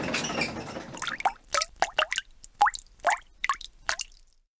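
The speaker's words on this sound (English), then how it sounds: "Victor turned a handle and pineapple juice dripped down into a coconut shell cup" Pineapple juice drips from a hand-cranked machine into a coconut shell cup, about a dozen distinct, close plops falling one after another in a quick uneven rhythm, then trailing off into silence.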